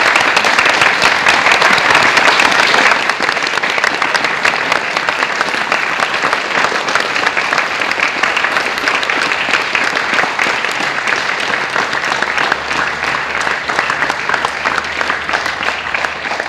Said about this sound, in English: It's better to clap now.